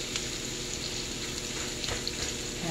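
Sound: turkey bacon and burgers sizzling in pan

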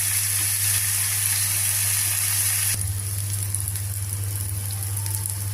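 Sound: green chillies and gourd pieces cooking in a pan

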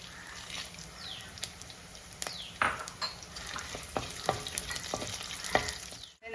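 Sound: ginger, garlic and dried red chillies frying in oil

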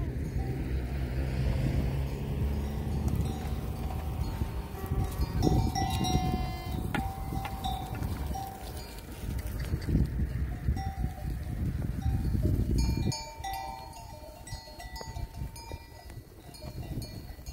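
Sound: large flock of sheep bleating with bells

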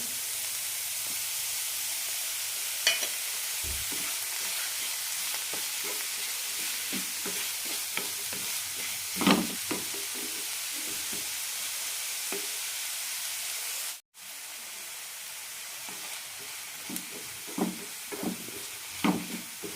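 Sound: vegetables and tomato frying and being stirred in a pan

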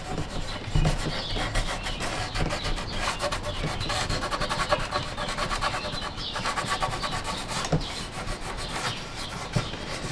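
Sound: rubbing carved wooden stars to remove loose shavings

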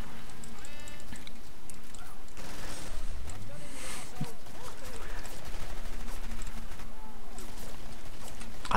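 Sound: gunfire in the Killing Floor video game

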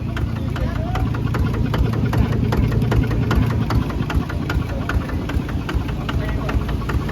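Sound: ZT155 Plus engine running on a farm vehicle frame

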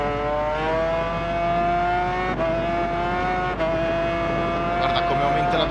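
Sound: motorcycle engine accelerating in Ride 4 video game

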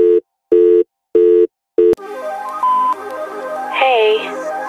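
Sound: phone call signal, call not picked up

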